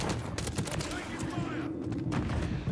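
Gunfire in the video game Modern Warfare 3 on the Favela map: dense, rapid automatic bursts crackle nearly nonstop and fairly close, with a brief lull midway before the shooting resumes.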